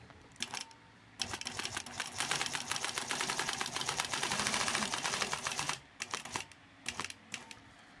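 A sewing machine stitches a straight line across a quilt block guided by a ruler, a continuous fast mechanical chatter running for several seconds, preceded and followed by short bursts of clicking.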